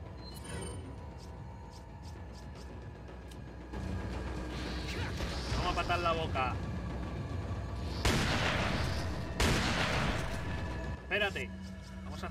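Bursts of gunfire and crashing impacts in a modded Resident Evil 4, with mechanical clatter and a person talking over the action.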